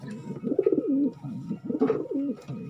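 Pigeons coo nearby in two short, rolling phrases, with soft throaty warbles rising and falling.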